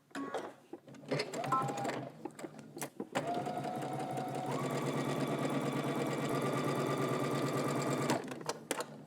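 A sewing machine stitches a pocket on a Simplicity S9917 garment, with short bursts of stitching at first, then one long steady run of close, loud whirring. A voice speaks briefly near the start.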